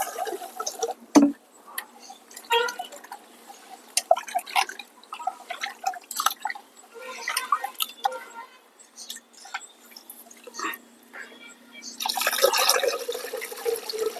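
Millet grains are rubbed and washed by hand in water, giving soft, close sloshing, dripping and gritty swishing in irregular bursts, with a busier splash near the end.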